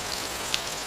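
Rain falls in a steady, even patter that fills the brief moment, with one small drop standing out near the middle.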